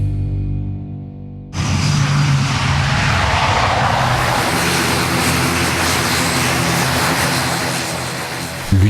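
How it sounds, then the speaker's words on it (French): A propeller airplane lands on the remote Polynesian atoll of Reao. A loud, steady engine and propeller roar starts abruptly after a brief quiet opening and holds close and sustained to the end. "L'unique avion de la semaine atterrit sur le sol de Reao"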